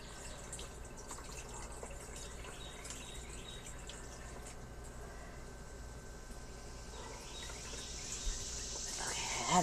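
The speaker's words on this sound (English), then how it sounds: "Okay, added some water." Water is poured out to water a garden, a faint trickling with scattered drips over a steady outdoor bed of cricket chirps, quiet and close.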